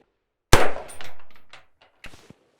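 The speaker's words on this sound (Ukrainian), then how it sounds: "робимо перший постріл" A single sharp shot from a Heckler & Koch G36 rifle (HK243 civilian version) cracks loudly up close, followed by a brief ringing decay and a faint metallic clank a moment later.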